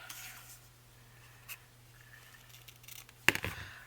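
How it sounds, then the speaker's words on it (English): Scissors snip off the top piece of paper for a handmade patchwork journal, with a sharp, close cut near the end after soft paper rubbing and light handling. "let's trim off this top piece"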